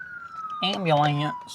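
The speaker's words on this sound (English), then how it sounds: "Ambulance." An ambulance siren wails past, a steady tone sliding down in pitch, then a loud swelling warble for under a second before fading, heard over a quiet indoor background.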